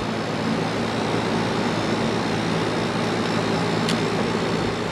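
A running air conditioner unit's fan motor gives a steady, even whir with a low hum underneath, loud and unbroken throughout, with no voices.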